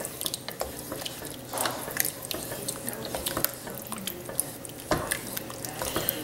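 Spoon stirring about three 15-ounce cans of ingredients into a chicken and spinach pasta sauce with fresh basil, giving soft irregular scrapes, wet drips and clinks of metal against the pot, close and fairly quiet.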